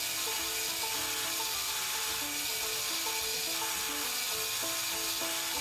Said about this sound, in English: we are going to use the soft buffing wheel with a green compound